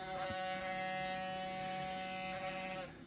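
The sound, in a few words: Halo LED air purifier ionizer brushes self-cleaning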